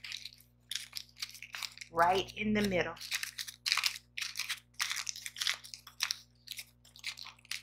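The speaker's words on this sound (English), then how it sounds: "you're gonna take your coffee filter and you're gonna crunch it kind of like this" A paper coffee filter is scrunched up by hand for a craft, giving a continuous close crinkling and crumpling texture in rapid bursts, while a person speaks over it briefly.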